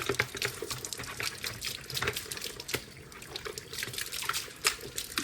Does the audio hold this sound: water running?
yes